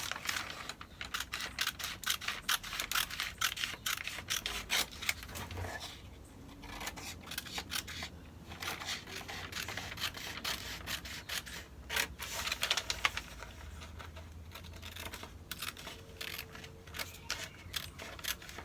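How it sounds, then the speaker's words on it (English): Scissors snip through paper while a bodice back pattern is cut out, a quick run of close, crisp clicks and rustling that continues throughout with short pauses. "And we're cutting this out"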